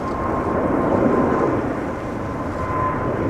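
Boeing 777 jet airliner taking off from Schiphol Airport, Amsterdam: a steady, loud broadband engine roar with deep rumble held throughout, no voices.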